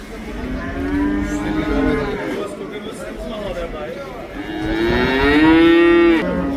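Cattle and calves at the Karabulak livestock market low repeatedly, two long drawn-out moos rising over a steady murmur of crowd chatter and voices close by.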